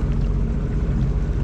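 A jet ski motor idles at low speed while cruising through a no-wake zone in a cove, giving a steady, continuous low rumble with a watery churn that stays even and fairly loud throughout.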